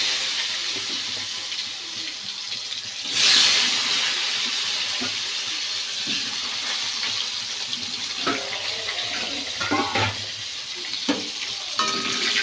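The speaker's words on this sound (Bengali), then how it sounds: "তো আলুটা ভাজা হোক" Potatoes frying in a pan for a home-cooked lunch, a steady close sizzle with occasional stirring scrapes and a brief louder hiss burst near the start, no talking.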